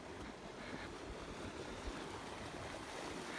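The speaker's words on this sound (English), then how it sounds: "Pretty happening little creek right here." A small mountain creek at an abandoned ski resort rushes in a steady broadband wash, continuous and fairly close, with no voices over the flow.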